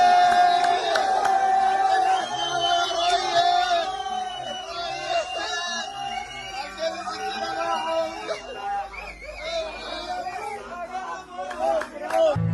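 A large crowd cheers and shouts as Jafar al-Omda is acquitted, a dense, loud roar of voices with whoops and yells that swells and keeps going throughout.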